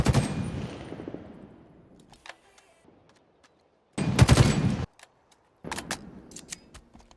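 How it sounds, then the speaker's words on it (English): A battle rifle in Halo Infinite being reloaded: a loud decaying burst fades out, light metallic clicks and ticks follow, then two sharp bursts of rapid weapon noise. "we need to appreciate the battle rifle's reload animations"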